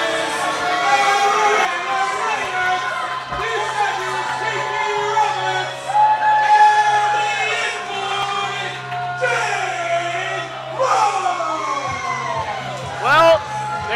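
A live professional wrestling crowd booing loudly and steadily throughout, a dense wall of many voices with shouts rising above it, and a commentator talking over the noise.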